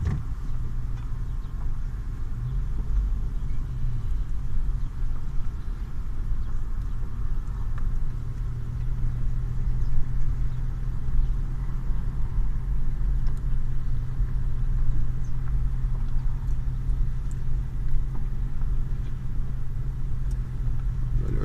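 Inside a car during a first driving lesson, the engine hums at a low, steady rumble with gentle acceleration, a continuous moderate drone with no voices over it.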